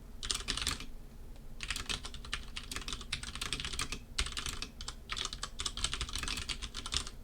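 Code is typed on a computer keyboard in quick bursts of crisp, close key clicks, separated by brief pauses, with no voice over them.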